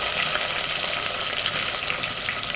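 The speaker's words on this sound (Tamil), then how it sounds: "வெட்டி வச்ச வெங்காயத்தை போட்டுக்கிறேன்" Chopped onions fry with green chillies in a pan for a seer fish curry. Up close, the sizzle is dense, even and crackling, and holds steady throughout.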